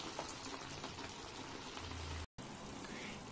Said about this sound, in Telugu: ఇలా బాయిల్ అవుతూ ఉంటుంది టమాటో అనేది ఇలా బాయిల్ అవుతూ ఉంటుంది